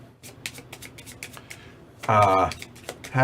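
A deck of Dominion board-game cards is shuffled close by in quick riffling bursts, ending in a louder, denser ripple of cards, with talk mixed in.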